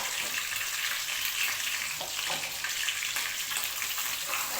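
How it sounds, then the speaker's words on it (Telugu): Onions fry in a pan for a chicken fry dish, giving a steady, dense sizzle with a soft bubbling crackle underneath, close and constant from start to finish, with no voices. "ఉల్లిపాయలన్నీ బాగా బ్రౌన్ కలర్ వచ్చిన దాకా ఫ్రై చేసుకోవాలి"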